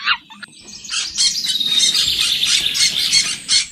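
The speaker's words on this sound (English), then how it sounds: "Wow, a parrot. Parrots can talk just like us." A parrot calls in an animated children's animal adventure, giving a rapid series of bright, chirping squawks that carry on steadily for several seconds, loud and close, with no talking.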